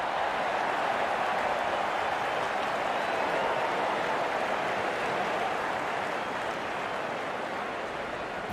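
Dense, continuous crowd roar and applause in the Real Cricket 26 video game as the openers walk out for a Gujarat Titans versus Rajasthan Royals match, a steady wash of noise that holds throughout and fades slightly near the end.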